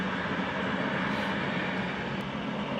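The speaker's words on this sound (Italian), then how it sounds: "Il treno." A train passing close by, a loud, steady rushing rumble that fills the whole moment without pause, with no voices over it.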